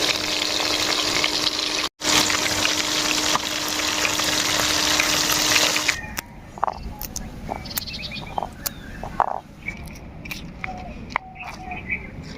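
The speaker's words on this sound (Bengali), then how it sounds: "হলুদ লবণ মাখিয়ে নেওয়া মাছগুলোকে এবার ভেজে নেব।" Koi fish rubbed with turmeric and salt frying in oil: a loud, dense sizzle fills the first six seconds, then drops to a quieter crackle with scattered pops and spits.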